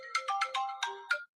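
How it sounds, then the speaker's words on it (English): A phone ringtone plays a quick melodic sequence of six bright electronic notes, clear and close, then stops abruptly. "can you please stop calling my phone right"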